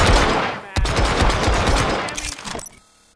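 Rapid bursts of gunfire from the Hitman Absolution video game hammer out densely and loudly for about two seconds, with a sharp onset and a quick fade into near silence.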